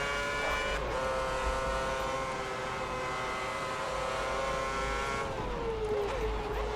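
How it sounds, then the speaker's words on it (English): A Cosworth-powered Formula 1 car screams through its revs in the F1 2010 racing game at Bahrain, a loud, sustained high-pitched engine whine with shifting tones as a rival car draws alongside and pulls past. "This Cosworth engine is just shocking. That it just flies past me."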